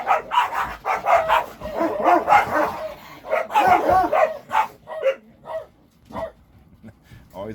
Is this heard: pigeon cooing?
no